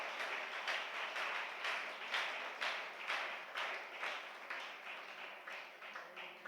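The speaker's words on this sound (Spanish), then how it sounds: "Sí, alabe al Señor con ese aplauso" A church congregation applauds together during a Spanish-language sermon, a steady wash of many hands clapping at moderate distance, rising and falling in soft rhythmic surges without a break.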